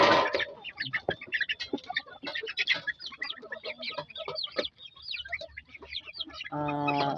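Darag native chickens cluck and chatter close by in a busy, irregular run of calls, with a louder squawk at the very end.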